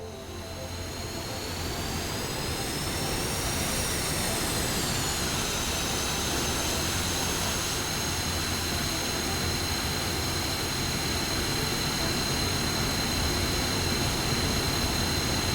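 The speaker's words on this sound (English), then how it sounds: "The first of the F5s is starting to taxi out." F-5 jets taxiing out at Bandar Abbas in a Persian Gulf 1985 flight simulator, a steady loud jet engine roar and whine that rises and then holds constant, with no speech.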